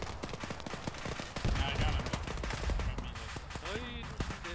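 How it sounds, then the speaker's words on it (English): Gunfire in a military video game, repeated bursts and rattling shots at mid distance, with people talking over the shooting. "There's a lot of fire from the northeast."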